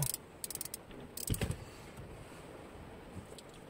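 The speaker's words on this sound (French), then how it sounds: "On serre bien fort parce que le volant ne doit pas bouger, bien sûr." Ratcheting wrench tightens the steering wheel bolt on a Nissan, a few quick clicks and a brief cluster of mechanical clatter, close and fairly faint, with no talking.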